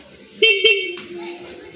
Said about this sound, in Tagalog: So ito po yung stock horn.